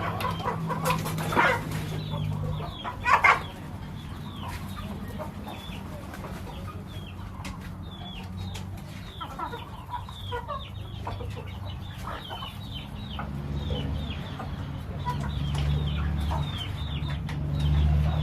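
Chickens cluck steadily throughout, with scattered short calls over a low, continuous background rumble; a couple of louder bursts stand out early on.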